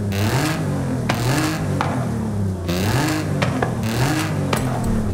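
A Mitsubishi Pajero Evolution engine revving in the Forza racing game, loud mid-pitched engine climbing and dropping through repeated rev cycles with whirring tones.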